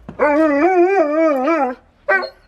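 An old dog howls loudly and close by in a long, wavering, tonal cry lasting over a second, then gives a shorter second howl after a brief pause.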